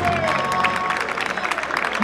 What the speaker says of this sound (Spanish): cuando los presente vosotros aplaudís